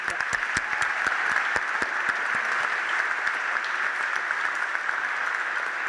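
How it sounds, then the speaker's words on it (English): Steady, dense applause from an audience at a college awards ceremony, honouring the Year 12 students, with many hands clapping continuously and evenly throughout. "And another short but strong round of applause for all the Year 12 students."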